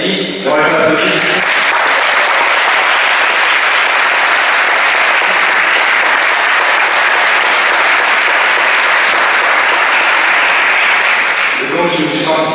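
Loud, sustained applause from a church gathering for a godmother, dense clapping that rises quickly and holds steady for about eleven seconds, with speech briefly audible at the start and end.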